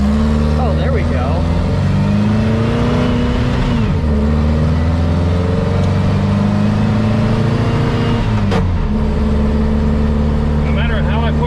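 A VW Baja on its first drive runs with a loud, close engine rumble that rises as it accelerates through the gears, with a shift dip partway through, steady road noise throughout.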